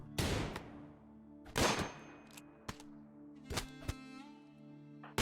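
Gunfire from a RimWorld colony skirmish, with several sharp, loud broadband shots spaced irregularly: two strong blasts early, then a few lighter cracks and a pair of bursts near the end, each trailing a low ringing hum.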